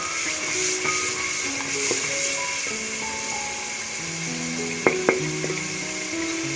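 Whole garam masala spices, black cardamom, cloves and cinnamon, sizzle in hot oil for chickpea pulao, a steady close frying hiss with a couple of sharp clinks near the end and no talk.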